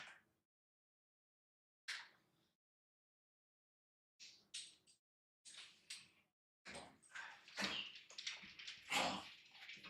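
A dog making scattered sounds indoors: a brief yelp, then short whimpers and snuffly vocal bursts growing busier and closer toward the end, with silent gaps between them.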